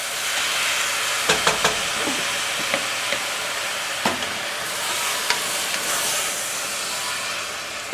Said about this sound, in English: Now, what we're going to do next is we're going to add the tomato sauce.